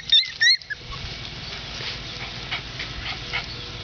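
Puppies give a few short high yips and whimpers at the start, then soft pattering and rustling continue faintly in an outdoor grassy spot.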